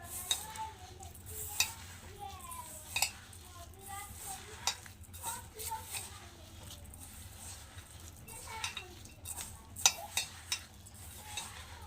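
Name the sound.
mixing sugar, semolina and banana for malpua batter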